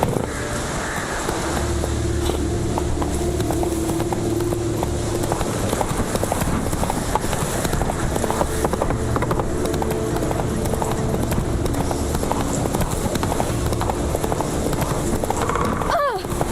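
Horse hooves galloping in the Witcher 3 game, a steady clip-clop rhythm running throughout under continuous game music and ambience, with a brief voice near the start.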